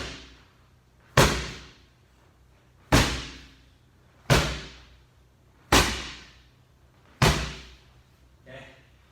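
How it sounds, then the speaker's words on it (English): Five heavy medicine ball slams on a hard floor, evenly spaced about a second and a half apart, each a loud booming thud, followed by a softer bounce. "slam the ball, and catch it on the immediate rebound"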